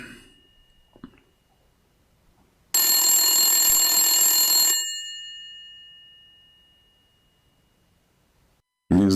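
An old landline telephone's bell rings in one bright, metallic two-second burst that rings out and fades slowly, and a second ring starts right at the end. Faint, quiet sounds come first.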